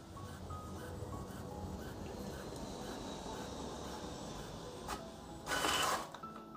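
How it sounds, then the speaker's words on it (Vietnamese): Brother DCP inkjet printer printing a colour test page gives a steady mechanical whirr with rhythmic carriage shuttling and small clicks, then a louder burst of feed motor noise near the end, no talk over it. "OK, restart thì máy in ra cái tờ bảng mã màu của các bạn."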